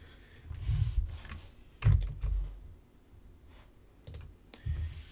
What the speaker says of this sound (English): We'll just go ahead and press enter for the default boot